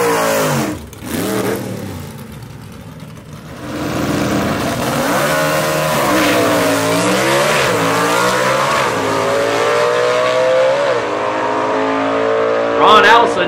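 Gasser drag race cars, including a 1949 Studebaker truck, launch at a drag strip, their engines revving loudly and roaring steadily throughout with a brief surge near the end, while commentary talk plays over them.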